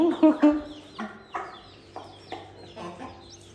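Hens cluck in short repeated bursts, close and fairly loud at first and then softer and spaced out.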